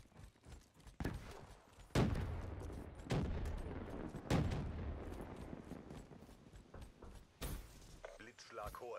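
Repeated gunshots and explosive bangs from Call of Duty: Black Ops 3 multiplayer burst out irregularly, some loud and booming, with mechanical clatter and faint voices mixed into the chaotic background.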